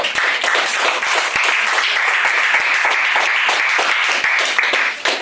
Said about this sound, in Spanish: Dale fuerte palmas al Señor.